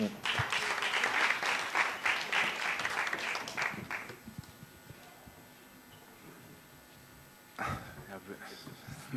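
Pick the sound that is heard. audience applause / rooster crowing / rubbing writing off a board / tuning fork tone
audience applause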